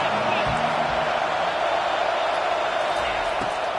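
Stadium crowd roaring in a Madden football video game on a third-down defensive stand, a dense, constant wash of cheering noise with a play-by-play voice talking over it throughout.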